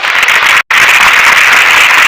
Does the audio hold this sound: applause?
yes